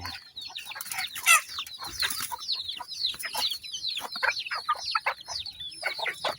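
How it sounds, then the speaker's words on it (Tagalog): Caged chickens clucking and squawking in a busy, overlapping chorus, close by, with one louder burst of cackling early on and constant chatter throughout. "Dadalhin natin dito sa nakakulong natin mga manok."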